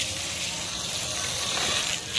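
An Ingco SPC4001 submersible pump pushes water out to wash solar panels, a steady close rushing gush of flowing water throughout.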